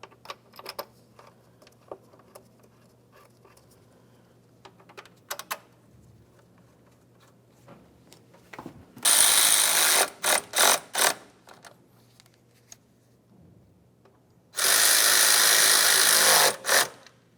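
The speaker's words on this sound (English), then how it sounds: "we can continue tightening our mounting nuts" Power tool bursts tightening the radiator fan shroud mounting nuts on a 2004-2015 Nissan Titan: two loud sustained whirring runs with a few short pulses between, alone amid quiet workshop clatter.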